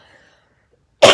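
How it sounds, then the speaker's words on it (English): A person clears their throat once, close and loud, in a short harsh burst after near silence. "So I'm going to clear my throat real quick"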